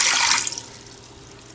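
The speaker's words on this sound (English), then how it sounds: "then pour in some water" Water pours into an Instant Pot over a steamer rack trivet, a brief splashing stream that is loud at first and then tapers into quieter trickling.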